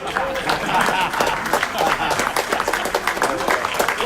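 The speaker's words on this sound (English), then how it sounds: "Keep the applause going" A crowd at a city council meeting claps steadily and warmly throughout, with voices talking over the applause.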